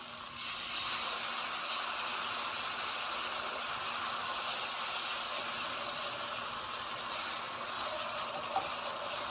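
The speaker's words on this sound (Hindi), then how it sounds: "ज़रा सा पानी ऐड करें ताकि मसाले जले ना।" Masala frying in a pan gives off a steady, dense hiss after a splash of water is added, sizzling evenly at moderate loudness with no voices.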